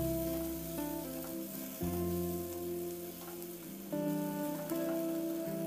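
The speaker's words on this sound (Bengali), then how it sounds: "এবার এই মশলাটাকে একটু নাড়াচাড়া করে নেব" Ground spice paste with a splash of water sizzling in a pan as it is stirred, a steady close fry heard beneath prominent background music.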